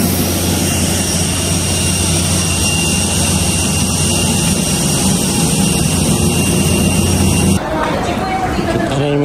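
Airplane very close by, a loud, unbroken jet engine roar with a high whine on top, holding steady before abruptly dropping in level near the end.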